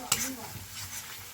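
Spice masala with kasuri methi is stirred in hot oil for a vegetarian green pea dish. A sharp spoon scrape at the start leads into a soft, continuous sizzle close by.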